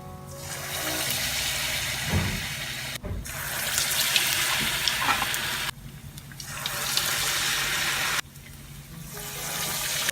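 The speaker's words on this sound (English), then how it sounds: "remember to fry it on medium flame, and this is how I'll put more of the bhallas." Semolina dahi vada batter sizzles and bubbles in hot oil over a medium flame, a steady close hiss that breaks off briefly three times as more pieces go into the oil.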